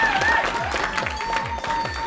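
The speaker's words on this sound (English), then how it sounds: "Can I have a clap now?" Wedding guests applauding, a brief patter of clapping from a room of people mixed with chatter and a faint tonal hum.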